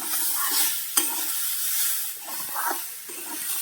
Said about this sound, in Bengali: নাড়িয়ে নিচ্ছি।